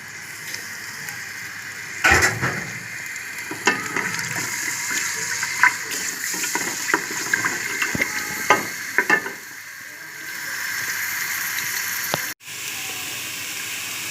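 Garlic sizzling and frying in hot ghee in a pan for dal, with a steady crackling hiss broken by several sharp stirring scrapes, close and fairly loud.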